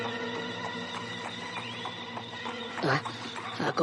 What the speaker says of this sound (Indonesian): Aku kembali mendengar suara kereta kuda Mak Rompang.